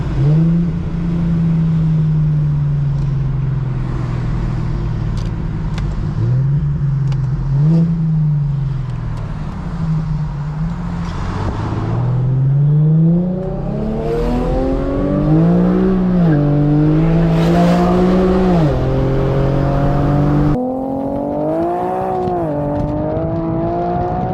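An Infiniti G37 at night climbs through second and third gear in repeated rising pulls, each surge ending in a quick dip at the shift, the exhaust note loud and close from inside the car with no talking.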